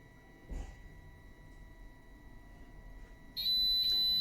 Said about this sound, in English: the alarm has went on, as you can hear by the beep